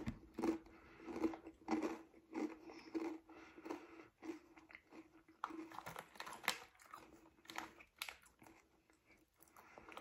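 Someone bites and chews banana-flavoured chips up close, giving repeated crunchy bites followed by irregular chewing crunches, faint but clear, with a soft bag crinkle now and then.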